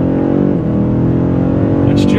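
A BMW M5 CS drives with a loud, steady engine drone heard from inside the cabin, the pitch shifting a little as it pulls, with a brief higher burst near the end.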